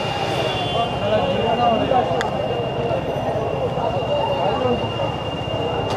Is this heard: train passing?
yes